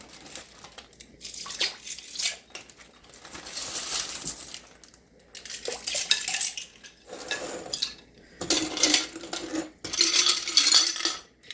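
Sea shells and a large piece of coral clink and rattle against each other as they are dropped into a bleach solution, with repeated bursts of close, bright clattering and brief pauses between handfuls.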